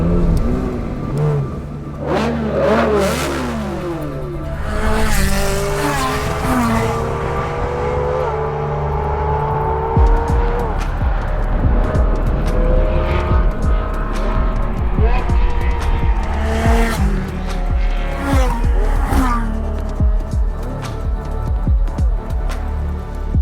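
Ferrari engines from a 360 Challenge Stradale, 430 Scuderia and 458 Speciale rev and accelerate loudly through rising and falling gear changes, with passing whooshes and brief tire squeal, under occasional talk.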